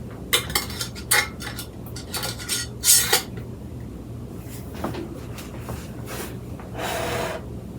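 Close metallic clinks and clatters of a lid being fitted onto a jar of freshly rendered, still-hot lard, a cluster of sharp knocks followed by quieter rustling.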